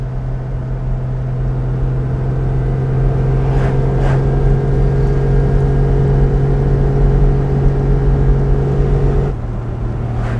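A 1959 Mercedes 300 d Adenauer limousine of about two tonnes and 160 hp cruises along with a steady, loud engine drone and tyre rumble, a brief change in tone near the end, and no talk.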